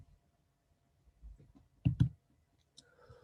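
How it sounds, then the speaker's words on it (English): A computer mouse clicks on a small info icon: a couple of quiet, sharp clicks close by in a silent room. "Let's click on that to see what it does."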